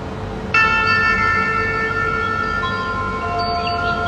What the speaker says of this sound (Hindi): तो शंखनाद आप सुन सकते हैं।